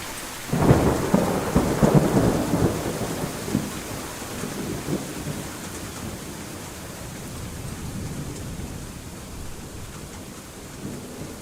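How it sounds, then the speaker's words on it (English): Steady heavy rain with rolling thunder fills a research-station scene in the Acrolyte game demo, a loud rumble swelling early then settling into constant downpour hiss. "I like the rain sounds, though."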